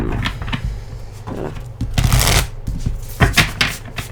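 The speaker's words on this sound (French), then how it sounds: "j'ai oublié de mélanger votre tarot" Close, crisp riffling of a tarot deck being shuffled by hand, with repeated quick flutters and soft taps of the cards over a few seconds and no speech.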